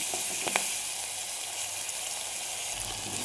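Chopped ginger, green chili and garlic sauté in hot oil in a pan for a Kerala fish curry, giving a steady close sizzle with a brief stir near the start.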